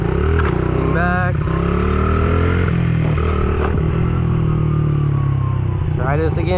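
A motorcycle engine revs and falls during stunt practice, rising and dropping throttle sweeps with clatter and scraping nearby, under ongoing talk from a rider.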